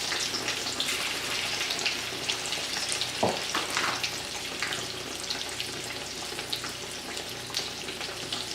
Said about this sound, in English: Now I'll go drop it into my oil.